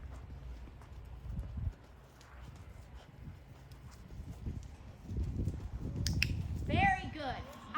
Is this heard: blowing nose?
no